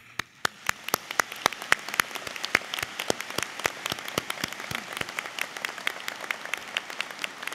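Graduation convocation audience for the class of 2016 applauding steadily, a dense patter of many hands with a few sharp nearby claps standing out, moderately loud and without speech.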